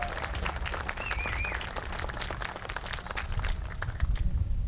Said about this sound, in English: So how about a round of applause for the Big Red Marching Machine and our students?